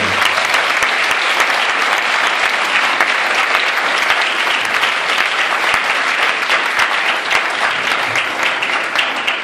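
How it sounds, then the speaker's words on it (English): Sustained, loud audience applause at a spelling bee launch event, dense clapping filling the room steadily from start to finish without letting up. "then you do one more round of applause for him"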